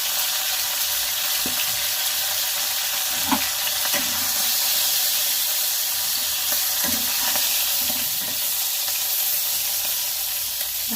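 Fish frying in a pan at home, a steady broadband sizzle with small spattering pops and occasional stirring clicks, continuous and close throughout with no talking.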